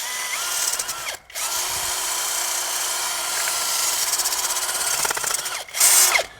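Power sander running on high over a custom wheel cover for a 1968 VW, working previously polished paint; a steady loud whine that cuts out briefly near one second and surges again toward the end.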